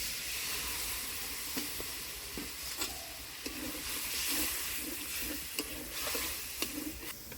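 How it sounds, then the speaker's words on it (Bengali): Sour yogurt goes into spiced katla fish in a hot pan, giving a soft, steady sizzle and hiss with scattered light clicks and scrapes of stirring, fairly quiet and with no talking. "এবার দিয়ে দেবো টক দই"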